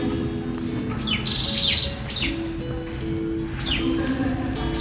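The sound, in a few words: birds chirping outdoors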